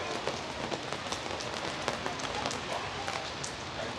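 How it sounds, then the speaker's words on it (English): Rain falls steadily across an outdoor city street in Sydney, Australia, a dense continuous hiss with scattered drops spattering nearby, moderately loud and unbroken. "But look, it's raining everywhere now."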